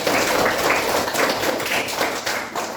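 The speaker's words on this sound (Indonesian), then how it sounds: "Tepuk tangan Bapak semua." A classroom of students applauding a student, dense continuous clapping from many hands, close and loud throughout.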